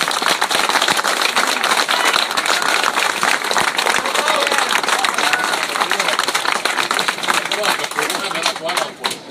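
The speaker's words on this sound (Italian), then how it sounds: "un applauso" A crowd applauds at a Lega campaign rally in Godega di Sant'Urbano, Italy, for mayoral candidate Paola Guzzo; loud, sustained clapping from many people with a voice speaking over it.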